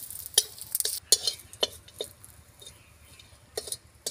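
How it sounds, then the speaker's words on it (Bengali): Whole cumin, garam masala and a bay leaf stirred in hot oil in a pan, with sharp spoon-on-metal clinks and scrapes in an uneven rhythm over a faint sizzle, close by. "একটু নাড়াচাড়া করে নিচ্ছে।"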